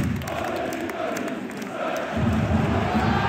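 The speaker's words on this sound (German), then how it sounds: "Und diese Stimmung, das ganze Stadion steht, klatscht." A football stadium crowd at Sturm Graz versus Lille roars and claps steadily, a dense wall of cheering and rhythmic applause that swells louder near the end.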